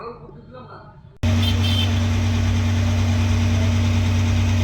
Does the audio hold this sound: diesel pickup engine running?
yes